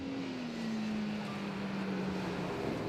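Jeep Gladiator with a MagnaFlow muffler and exhaust setup, a steady low drone with a slowly falling pitch, held evenly throughout.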